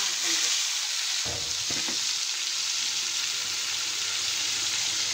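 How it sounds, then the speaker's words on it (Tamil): Mustard seeds and cumin crackle in hot oil for a tomato sambar, a constant hissing sizzle with a few quick spatters and a brief clatter near the start, and no speech. "கடுகு நல்லா பொரிஞ்சிருச்சு"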